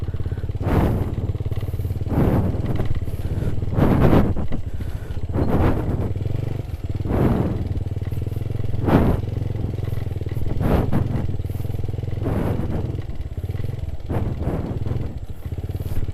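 A Suzuki Satria FU motorcycle on semi-slick tyres rides off-road, its engine droning loudly throughout with repeated clattering thumps and bursts roughly every one to two seconds.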